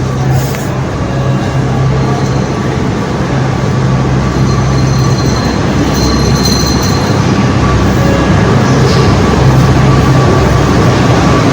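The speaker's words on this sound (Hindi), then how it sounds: "आज मैं मेट्रो ट्रेन के सफर को एंजॉय करने वाला हूँ।" Jaipur metro train running, a steady loud rumble of wheels on rails heard from inside the carriage, with sustained squealing tones and faint clicking throughout.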